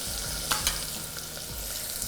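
Steady sizzling of onion frying in a pan for wheat rava upma, with a few stirring scrapes and clinks of a utensil, continuous and close.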